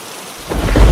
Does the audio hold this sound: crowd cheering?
no